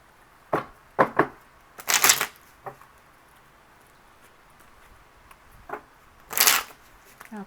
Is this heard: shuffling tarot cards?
yes